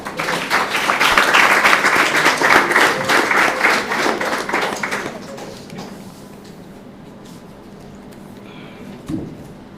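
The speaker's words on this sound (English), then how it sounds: "Please give her a round of applause." Audience applause at a sickle cell disease event in Jamaica: a dense round of clapping for several seconds that fades out, leaving quiet room tone and a brief thump near the end.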